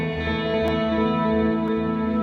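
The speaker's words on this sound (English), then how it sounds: "This is the reverb." Sustained, dense electric guitar tone washed in heavy reverb from a VFE Pedals Klein Bottle stereo reverb pedal, with long smeared tails and a couple of faint clicks; no talking.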